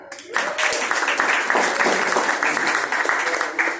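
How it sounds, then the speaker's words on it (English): Steady applause from a crowd, continuous clapping that starts abruptly and holds at a full, even level throughout. "so round of applause to them"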